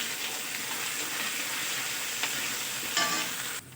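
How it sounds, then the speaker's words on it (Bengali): Ginger paste and onion fry in oil in a pan, a close, steady sizzle with stirring scrapes and a louder clatter near the end. "আদা পেঁয়াজ আরেকটু তেলের সঙ্গে নাড়াচাড়া করে নেব"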